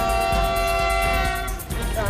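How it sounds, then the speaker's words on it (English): A train horn blares in a long sustained harmonic tone, close and loud, for a Pretoria news report on a train crash, briefly dipping and returning near the end over low rail rumble. "A Pretoria train ploughs into a bakkie, killing 3."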